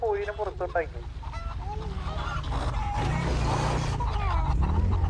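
Loud, chaotic squawking and honking from a crowd of chickens being caught at a meat shop, with overlapping cries and general commotion close by.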